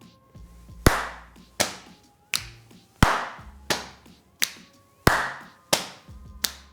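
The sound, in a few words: clapping, patting and finger clicking in triple time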